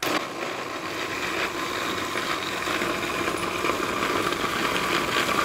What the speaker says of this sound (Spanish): Mientras vamos a moler la salsa. Que esté bien molidita.